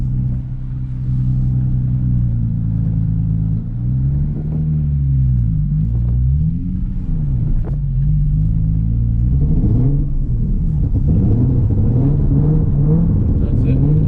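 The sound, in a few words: Nissan 350Z engine revving while drifting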